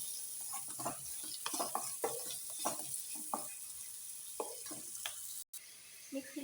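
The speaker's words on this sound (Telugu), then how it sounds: "మంచి రంగు వచ్చే వరకు వేయించుకోవాలండి ఇవి కూడాను." Ivy gourd (dondakaya) fries with salt in a pan, a quiet sizzle under repeated scraping and stirring strokes, with a short break near the end.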